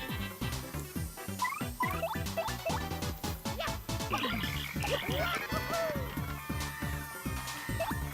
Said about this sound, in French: ça fait un son de grenouille